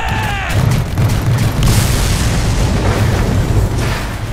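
Cannon fire explosions in the video game Attack on Titan 2, a loud, sustained roar of booming blasts and rumbling after an opening whine, with a voice briefly heard at the start.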